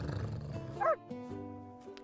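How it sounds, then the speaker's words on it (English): A game creature in Arknights gives a puppy-like yelp and whimper, short tonal barks and a rising whine over a low rumbling background, with no speech. "There was a puppy noise and I needed it to be made."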